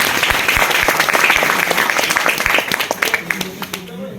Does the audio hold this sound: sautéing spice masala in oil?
no